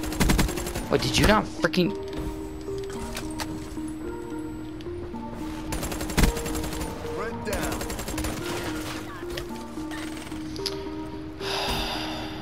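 Gunfire in the video game Call of Duty Black Ops 3, with bursts of rapid shots and scattered single reports through the clip, mixed with game effects and a player talking over it.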